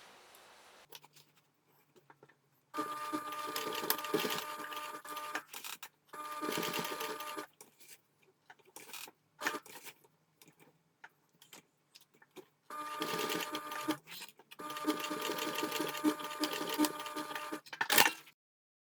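A sewing machine stitches a box pattern on a strap in several separate runs of rapid mechanical whirring and clatter, broken by short pauses and quieter gaps, close up.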